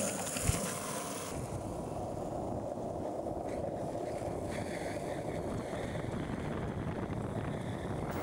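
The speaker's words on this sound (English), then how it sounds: "I'm gonna go skate these bad boys." A skateboard rolls on Anchor 81A centerset wheels with a stone brown finish, making a steady, continuous roar mixed with wind rush for several seconds. No voices are heard.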